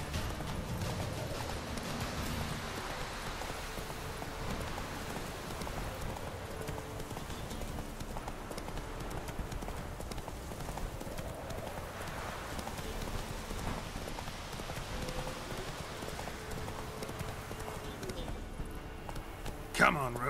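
Roach, a horse in The Witcher 3 video game, galloping in the rain: rapid, continuous clip-clop hoofbeats with rain hiss under them, and a voice speaking briefly over the game sound.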